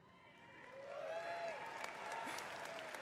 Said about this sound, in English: do you want people to applaud you every time you finish a sentence?